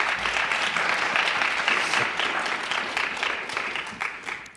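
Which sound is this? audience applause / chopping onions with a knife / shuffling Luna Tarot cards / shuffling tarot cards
audience applause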